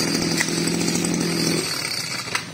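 A Makita Japanese grass trimmer engine runs steadily with a buzzing, high-revving two-stroke drone, loud and close, its tone easing slightly partway through.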